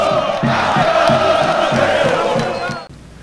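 Motoclube football supporters celebrate their team's qualification after a match in Maranhão, a loud crowd chanting and cheering in rhythmic bursts with drumbeats, close and sustained before cutting off abruptly.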